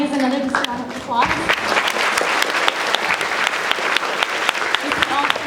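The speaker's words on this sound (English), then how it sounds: "Their families, another just round of applause." A theater audience applauds students' families at an evening event, a sustained dense round of clapping with some voices and cheers mixed in, fairly loud and close throughout.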